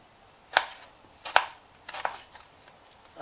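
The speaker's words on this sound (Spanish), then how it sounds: "vamos a cortar el tomate que nos ha quedado en daditos pequeñitos" Knife chopping tomato into small dice on a board, three crisp separate cuts spaced about a second apart, close and clear with a quiet background.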